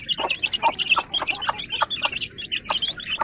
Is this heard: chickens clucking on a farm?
yes